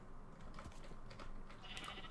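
Video game sheep bleating a few times, short faint bleats over quiet clicking and background game noise, no voices.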